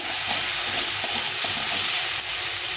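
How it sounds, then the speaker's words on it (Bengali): Chickpeas and spices stir-fried in hot oil for a banana flower curry (mocha ghonto), giving a constant loud, close sizzle with faint stirring scrapes throughout. "এখন এর মধ্যে দিয়ে দেবো এক মুঠো ছোলা ছোলা দিয়ে একটু কষিয়ে নেব"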